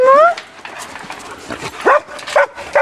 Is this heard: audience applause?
no